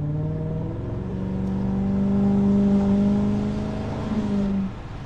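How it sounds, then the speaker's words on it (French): A prototype BMW V8 engine with a deep burble revs up and holds a steady throbbing drone, rising gradually before dropping off near the end. "Le beau bruit du V8."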